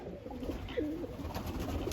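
Racing, white and Birmingham roller pigeons in a coop give a single soft coo partway through, faint against a quiet, hissy background.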